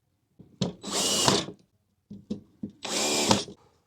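A power drill drives the mounting bolts of a ceiling fan home in two close, loud whirring bursts, each led by a few short clicks and separated by a brief quiet gap.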